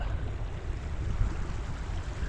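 Rainwater rushing like a river beside an adobe house after a desert dust storm, a steady broad watery roar that holds loud and close throughout with no talking.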